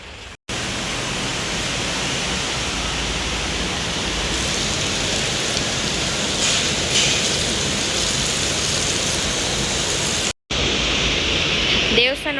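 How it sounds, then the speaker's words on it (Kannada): Water flows inside the Durga Parameshwari temple: a steady, dense rushing roar that runs unbroken and loud, like a strong stream or small cascade, with a brief cut partway through. "ದೇವಸ್ಥಾನ ಒಳಗಡೆ ಈ ಥರ ನೀರು ಫ್ಲೋ ಆಗ್ತಾ ಇರುತ್ತೆ"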